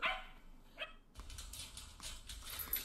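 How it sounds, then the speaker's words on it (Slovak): A pet dog barks in a few quick, sharp yaps that sound somewhat distant and quiet against faint room noise, with no talking. "Čiže ja vám ukážem môjho psa"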